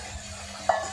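Meat going into a hot pan with a little water, turmeric, chili, coriander and cumin gives a low steady sizzle, then a sudden brighter hiss and clink as it lands and is stirred near the end; no talking.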